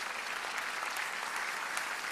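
A church congregation at a Sunday service claps continuously while a woman turning fifty walks up. The clapping is fairly faint, with a few sharper claps standing out from the even crowd sound.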